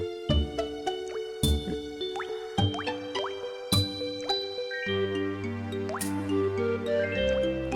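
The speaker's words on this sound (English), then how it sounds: "he really likes that immersion with the droplets" Water droplets in Donkey Kong 64's Crystal Caves music fall as bright plinking drips over a sparse melodic line with regular low notes, the drops repeating in a loose rhythm throughout.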